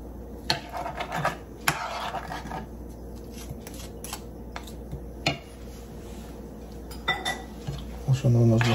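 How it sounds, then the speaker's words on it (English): A potato masher working a sweet stuffing in a bowl, with irregular metallic clinks and scraping knocks against the dish, busy and close, over a steady kitchen background. "I'm using a potato masher."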